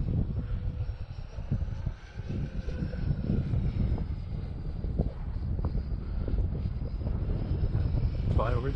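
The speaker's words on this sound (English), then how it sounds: "Let's get another one of them beautiful F-15 loops." F-15 Strike Eagle jet flying a loop at an air show, a continuous broad roar held steady and moderately loud throughout, without a clear rise or fade.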